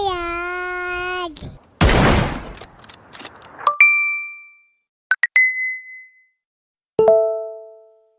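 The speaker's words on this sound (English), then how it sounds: "Excuse me, boss. You have a text message." A text message notification ringtone plays: a sustained electronic tone, then a burst of noise followed by several bright, ringing dings that decay, separated by short silences.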